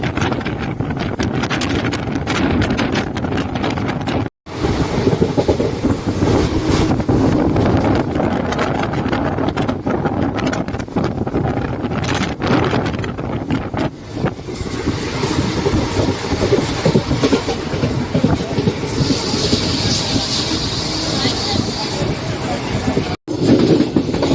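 A passenger train arriving at Arsikere Junction rumbles and clatters steadily along the rails, loud and close, with a brief high squeal of brakes near the end.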